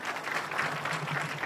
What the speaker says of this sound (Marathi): टाळी वाजवायची त्या माईसाठी